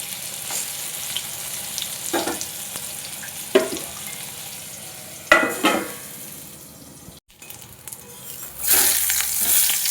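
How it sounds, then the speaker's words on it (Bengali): Eggplant pieces fry in hot oil in a pan, producing a steady, close sizzle. Several sharp bursts of stirring and scraping break through it, with no voices. "বেগুনগুলো ভাজা হয়ে গেছে।"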